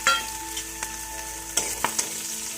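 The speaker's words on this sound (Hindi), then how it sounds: "तेल गरम हो चुके हैं, थोड़ा सा जीरा डाल देते हैं। अब ये कटे हुए प्याज और" Cumin and chopped onions frying in hot oil, a close steady sizzle with a few sharp pops and crackles, no voices.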